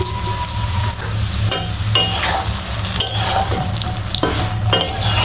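Soybean chunks fry in oil over low heat, a loud continuous sizzle with repeated scraping and stirring strokes of a spatula against the pan, close up and without talk.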